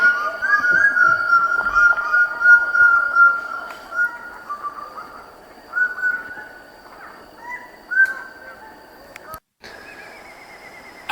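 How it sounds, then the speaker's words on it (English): Loud, harsh calls of birds of paradise ring out repeatedly in bursts, with piercing whistled notes over a quiet Papua New Guinea forest background. "noisy birds"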